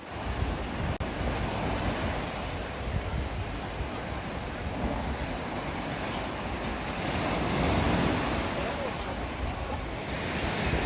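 Continuous sea waves washing in at a shallow inlet at Torrevieja, a steady broadband surf wash with a slight swell toward the end, mixed with wind buffeting the microphone and no talk.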